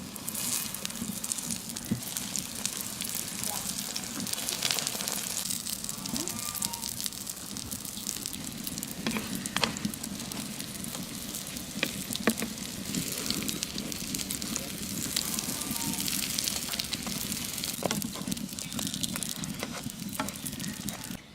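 Seed-filled flatbread fries in a little oil in a flat pan over low heat, giving a steady, close sizzle with soft crackles and faint stirring scrapes throughout.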